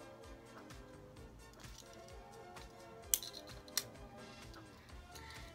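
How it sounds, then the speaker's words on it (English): Two sharp, quick snips of scissors, close by, over a faint steady background hum. "It's got some nice scissors."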